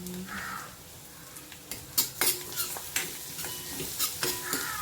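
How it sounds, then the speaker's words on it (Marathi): Chopped onion sautéing in oil with green chilies as asafoetida goes in, a steady hiss of frying with a run of quick spatula scrapes and clinks against the pan, close and fairly loud, no talking. "कांदा परतत असतानाच त्याच्यावर हिंग टाकायचं आहे"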